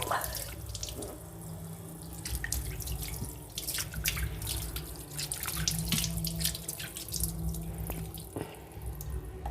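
Running tap water splashes into a sink, with uneven splashing and drips as hands scoop water to wash a face, close and steady.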